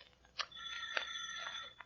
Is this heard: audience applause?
no